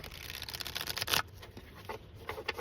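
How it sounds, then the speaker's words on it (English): Tarot and Lenormand cards shuffled by hand during a reading, a dense, fast papery riffle that peaks in one sharp burst, then lighter flicks and taps as the deck settles. "One last shuffle, which won't suck."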